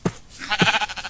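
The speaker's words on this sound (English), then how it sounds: "Come here, sheep, sheep, sheep, sheep." A Minecraft sheep bleats twice in quick succession, a short nasal bleat followed by a longer wavering one, close and clear with nothing else around it.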